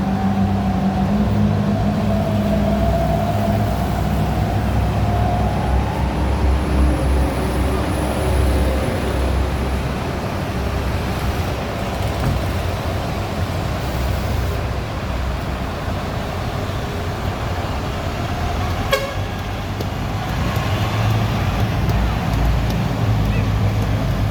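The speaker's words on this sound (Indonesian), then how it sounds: "bus Evan sedang berangkat Palembang Bogor" A steady, loud engine drone and rushing road noise fill the scene as an intercity bus departs on the Palembang to Bogor route, continuous throughout with a brief click near the end.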